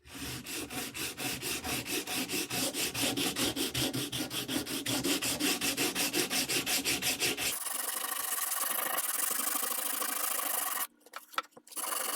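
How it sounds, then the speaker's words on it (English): Sandpaper of 100 grit rubs back and forth on a wooden military rifle stock in quick, even strokes, then shifts to a steadier, smoother scrubbing before stopping abruptly. The sound is close and continuous, with no talk. "I used a 100 grit sandpaper to remove tool marks and to smooth out curves."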